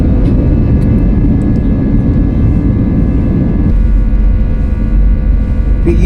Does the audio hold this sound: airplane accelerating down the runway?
yes